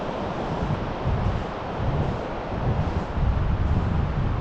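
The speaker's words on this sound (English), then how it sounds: "Oh, it's nice to be down on the beach." Waves wash onto a beach under heavy wind buffeting the microphone, a steady broad rushing roar with slow surges, close and loud, with no talk.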